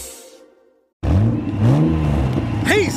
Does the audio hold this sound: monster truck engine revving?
yes